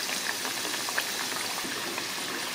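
Badam puri frying on a low flame in hot oil, a steady, soft bubbling sizzle with faint crackles, close and continuous, no voices.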